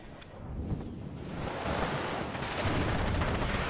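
Small-arms fire from soldiers in the wartime strategy game Warno, a dense rattle of distant shots and bursts over a steady windy battlefield bed that grows fuller toward the end.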